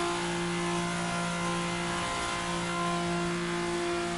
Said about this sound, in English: I don't even know if you can hear the cars as loud as I can